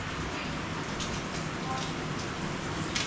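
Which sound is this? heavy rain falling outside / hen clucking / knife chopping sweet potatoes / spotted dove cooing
heavy rain falling outside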